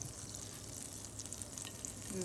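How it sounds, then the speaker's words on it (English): Steady, quiet sizzling and crackling of butter frying in a pan, continuous throughout with no voices. "Okay, so I put some butter on the pan."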